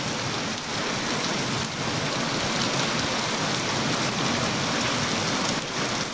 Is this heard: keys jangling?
no